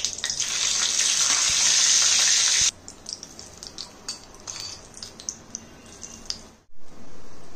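Cumin seeds hit hot oil for tempering a fasting-style dhokla, giving a loud, dense sizzle for a few seconds that drops to lighter scattered crackles and pops, with no talking.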